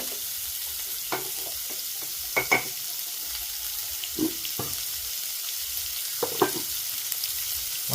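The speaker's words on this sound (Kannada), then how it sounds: "ಏನಂತೀರಿ ಎಣ್ಣೆ ಒಳಗೆ ಚಲೋ ತೆಗಿ ಫ್ರೈ ಮಾಡ್ಕೊಳ್ಳ್ರಿ" Chopped onions fry in oil in a village kitchen, giving a steady, soft sizzle broken by a few brief clinks and scrapes of stirring.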